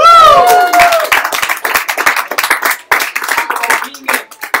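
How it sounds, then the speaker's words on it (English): A small audience at a live session claps for a participant, sharp close handclaps in an irregular burst that follows a brief whistle-like tone and some murmured voices at the start, fading slightly toward the end. "Give me a round of applause."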